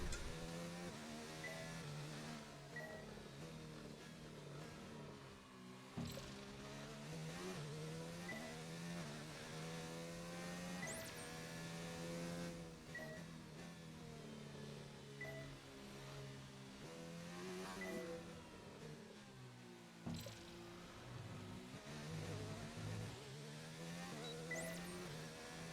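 Race car engine in a racing video game on the Montreal circuit, revving up and down with repeated downshifts and tire squeal through corners, a steady moderate engine drone throughout.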